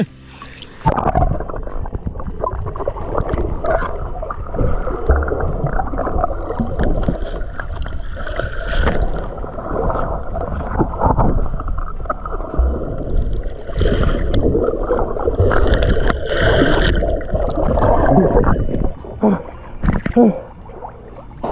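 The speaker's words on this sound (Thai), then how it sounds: "ผมจะพาทุกท่านลงเข้าสู่โลกใต้น้ำกัน" Muffled underwater ambience recorded while diving: a steady loud wash of low rumble and gurgling water, with bubbly bursts drifting through throughout, continuous and close.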